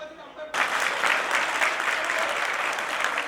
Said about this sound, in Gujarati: તાળી સતત ચાલુ રાખો સાહેબ